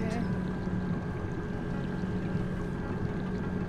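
A miniature submarine cruises through river water in GTA V, a steady wash of churning water and a low engine hum with a faint tonal whine, continuous and even throughout.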